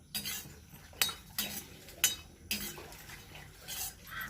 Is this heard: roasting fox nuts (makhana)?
yes